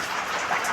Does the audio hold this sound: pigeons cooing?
no